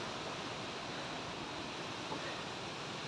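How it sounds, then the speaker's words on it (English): Strong wind roaring steadily through trees, a dense, unbroken rushing noise with no voices. "It's really, really windy today."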